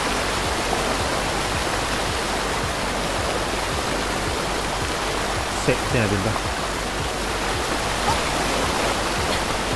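Continuous rushing cascade from the game Die Young, a broad steady roar of falling water filling the scene while someone speaks briefly over it partway through.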